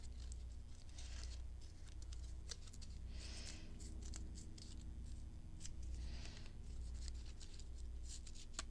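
Paper is torn by hand for a collage, giving faint, close rustling rips that come in a few soft bursts over a steady low hum.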